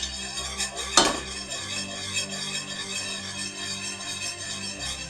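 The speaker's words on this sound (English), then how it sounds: "you do pretty much want to constantly stir it because you don't want it to scorch" A spoon stirs thick hot cocoa syrup in a pot, with one sharp metallic clink near the start and then steady, quiet scraping and swirling strokes, no voices.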